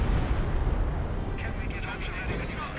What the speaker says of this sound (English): Officer artillery takes out the Pack 38